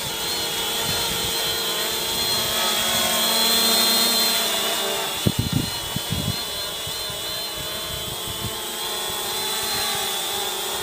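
A Force 1 quadcopter drone flies on a windy day, giving off a steady whirring whine. A brief cluster of knocks and clatter comes midway, and no one speaks.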